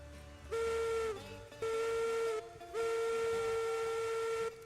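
A steam locomotive whistle in the Railroads Online game blows three sustained blasts, the last and longest held for nearly two seconds, loud and clear over a faint hiss, with no voices.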